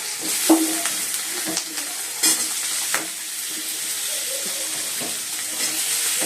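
Potatoes frying in oil with dried chilli and panch phoron for a white potato curry, a steady close sizzle with a few soft stirring knocks, no voices.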